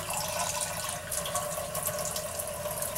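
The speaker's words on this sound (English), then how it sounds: "And pour a little bit of water in each one" Water poured from a measuring cup into homemade climb-up CO2 bed bug traps, a steady close trickle and splash running without pause and without talk.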